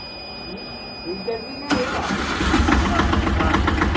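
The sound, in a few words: truck engine being started during driving training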